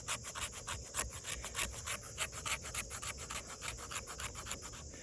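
A D2 steel knife spine scrapes steadily along a piece of fatwood, producing rhythmic, raspy strokes about four or five per second, close and quiet with no talking.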